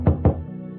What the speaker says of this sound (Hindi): उसने आगे बढ़कर दरवाजा खटखटाया।